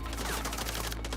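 Rapid gunfire from a gun in the video game Mind's Eye, a dense, loud burst of shots fused into a continuous rattle lasting about a second, with no voices.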